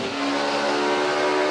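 NASCAR race cars roaring at full throttle, Kyle Busch moving past Gordon on the back straightaway, a loud, sustained engine drone with a steady high whine and no voices over it.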